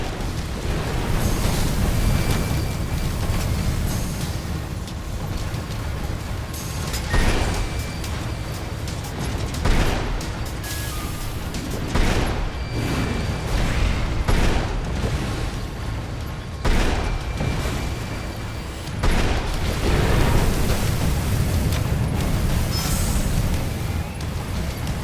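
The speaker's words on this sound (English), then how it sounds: "Uh-oh, it's catching fire!" Fire breaking out in an animated adventure scene, a continuous loud roaring blaze broken by repeated heavy booms and bursts, dense and chaotic throughout with a faint voice briefly under it.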